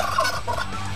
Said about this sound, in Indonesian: Terkadang mengeluarkan suara kuluk-kuluk-kuluk-kuluk.